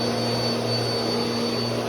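A Bissell Power Force Compact vacuum cleaner runs steadily on a hard floor, giving a loud, close, constant motor whine with a strong hum and no speech.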